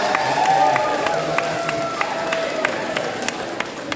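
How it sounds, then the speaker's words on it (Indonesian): An audience of teachers applauding the practice instructors at an education event, a broad wash of clapping and cheering with scattered distinct claps over a steady crowd murmur. "mari kita beri tepukan tangan yang meriah untuk para pengajar praktik kita"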